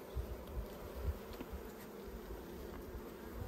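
Honey bees buzz steadily around a hive in Australia, a dense, continuous drone with a few louder individual bees passing close by.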